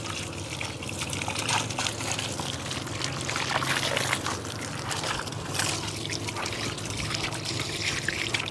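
Water pours steadily over boiled bamboo shoots being washed, a continuous splashing gush that runs unbroken and fairly loud from start to finish.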